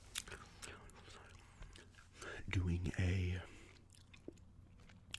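Close-up gum chewing during a whispered presentation of an NES Nintendo game collection, soft wet smacks and clicks scattered under quiet whispering, with a brief louder voiced stretch midway.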